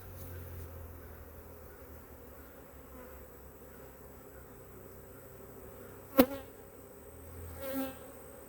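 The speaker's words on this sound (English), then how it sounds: "I would say I have a very good population of bees in this box." Honeybees buzz inside a hive box as a soft, steady hum, joined by a sharp knock and a brief louder bump near the end.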